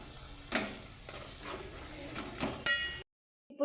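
Egg fried rice sizzles in a pan while being stirred, with steady frying hiss and several scraping stir strokes before it briefly falls silent.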